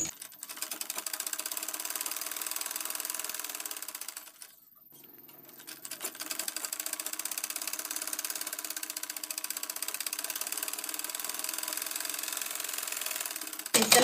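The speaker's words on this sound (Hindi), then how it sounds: "इस तरीके से बेल्ट को सिलाई लगा दी" Sewing machine stitching a petticoat belt, a fast steady mechanical rattle of the needle that pauses briefly about a third of the way through, then runs on close and even.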